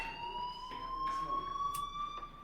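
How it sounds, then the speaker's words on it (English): A fire alarm rings inside the video game Life is Strange, a steady electronic tone holding over a faint hum of background noise, continuous and moderately loud throughout. "Hey, do you hear that fire alarm? That means you should be outside."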